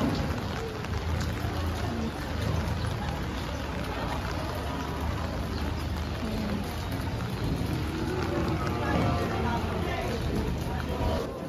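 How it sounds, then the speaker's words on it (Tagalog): Steady rain pours down around a cattle pen during a typhoon, a dense continuous hiss that stays loud and even throughout, with someone talking over it at times. "Umuulan kasi bossing."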